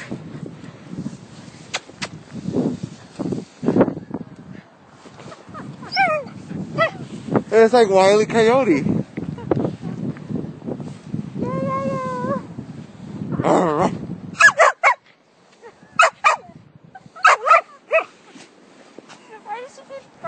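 An Australian Shepherd puppy playing in snow gives repeated sharp barks and yips, close and loud, interleaved with people talking outdoors in the cold.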